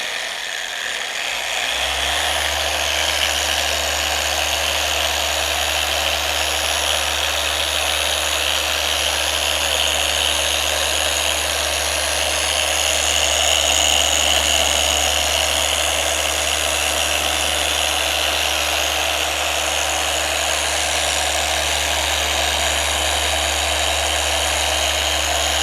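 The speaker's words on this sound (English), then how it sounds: "Again, not a lot of pressure, just letting that polish do its thing. Letting the polisher work." A car polisher works the paint of a 2022 BMW M3 Competition xDrive, spinning up after a short pause into a loud, steady electric whir with a low hum that holds throughout, close and alone.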